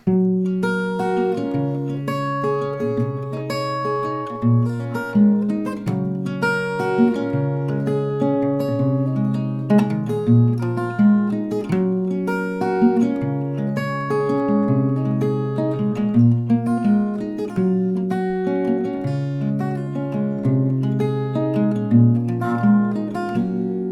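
Acoustic guitar fingerpicks a continuous chord progression with individually plucked notes, steady rhythm and moderate volume, no voices.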